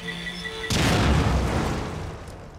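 A bomb explodes in the horror video game The Evil Within, a sudden loud boom that cuts off a quiet tonal hum and then rumbles and slowly decays over the next two seconds.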